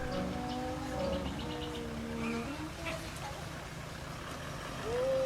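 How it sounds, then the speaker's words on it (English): Off-road vehicle towing a trailer down a very steep section of Gunshot Creek on the Old Telegraph Track in Australia, with steady engine drone, high tonal brake moans and squeals sliding in pitch, and creaking under a continuous rumble. "You can hear the brakes like just grinding and almost moaning"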